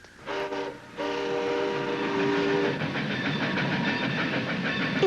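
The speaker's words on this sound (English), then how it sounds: "It's a train." A toy or cartoon-style train sounds alone, its steady harmonic whistle tones held for a couple of seconds, then a continuous loud rumbling rattle of rolling cars running to the end.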